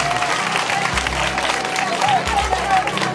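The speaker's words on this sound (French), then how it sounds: "applaudissez pour vous-même" A crowd claps in a dense burst of applause at a school spelling contest, with a voice speaking over it and some low thumps underneath.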